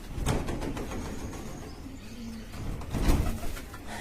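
Pigeons kept by a fancier coo in a loft, two low throaty coos spaced a few seconds apart, close by against soft background noise.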